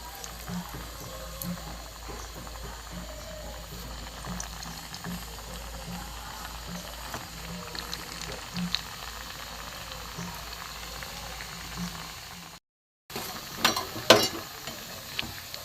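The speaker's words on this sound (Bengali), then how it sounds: "নিয়ে আমার এখানে তেলও গরম হয়ে গেছে, একটা করে আমি ছেড়ে দেবো" Balushahi dough rounds frying in hot oil, a steady low bubbling and faint sizzle running throughout, with a brief dropout near the end followed by louder crackling as more dough goes in.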